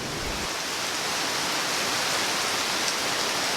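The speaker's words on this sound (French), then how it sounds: "la pluie a recommencé à tomber et à tomber en grande quantité." Heavy rain pours down in Puerto Viejo in a dense, even hiss that stays constant throughout, loud and close with no other sounds.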